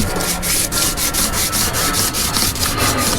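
Hand sanding of small areas on a bass boat being restored before paint, a close, rhythmic back-and-forth rubbing with steady strokes about every third of a second, with no talk.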